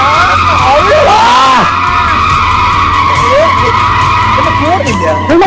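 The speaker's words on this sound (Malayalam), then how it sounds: "ഡ്രിഫ്റ്റ് ചെയ്യ അങ്ങോട്ട് ഓട്ടിക്കലേ ഡ്രിഫ്റ്റ്" A car drifts in a video game, its tire squeal rising and bending in loud, close whines over a steady engine drone, with a person talking over the game audio.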